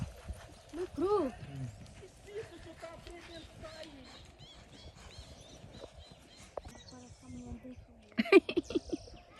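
Horse hooves clip-clop on the ground at vaquejada training, a steady trotting rhythm with a short whinny, birds chirping in the background and people talking over it.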